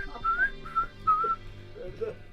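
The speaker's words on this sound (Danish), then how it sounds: "kan du fløjte med en smøg i munden" A man whistles a few clear, sustained notes with a cigarette in his mouth, outdoors on a fishing trip, with soft background talk and ambient noise.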